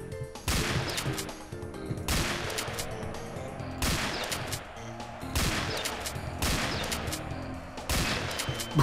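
Shotgun blasts from the video game Halo CE, a series of loud, booming shots fired in quick succession with short pauses between them, each one heavy and close.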